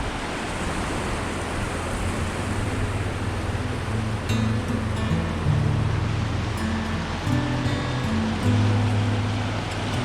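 The Middle Fork of Blacks Fork river flows heavily, a steady, unbroken rushing roar throughout with a faint low hum beneath.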